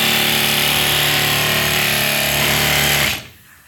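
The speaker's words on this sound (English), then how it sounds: "But I'm going to sand this a little bit." A power sander working on a painted surface makes a loud, steady high-pitched whine for about three seconds, then stops abruptly.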